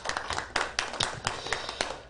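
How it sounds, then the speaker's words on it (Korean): Scattered hand claps from a lecture audience for a poet, starting in a rush and thinning into separate claps, moderately close and somewhat quiet, with no talking over them. "다시 한번 우리 송경동 시인에게 뜨거운 손뼉 부탁드립니다"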